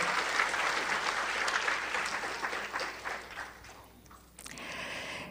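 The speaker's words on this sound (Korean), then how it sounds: "여러분 힘찬 박수로 인사를 나누시기 바랍니다." Hearty audience applause at a commemoration ceremony for the anniversary of an inter-Korean summit declaration, a dense clapping that fades out near the end before a brief different sound.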